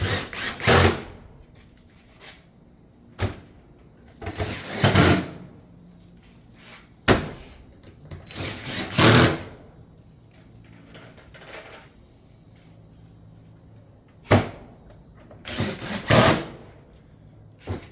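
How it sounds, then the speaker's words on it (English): Pine Crest shake roof panels are fastened with a power tool in several short, loud bursts, each separated by quieter pauses, alone without talk. "Then we'll come back and just fasten the panels as normal."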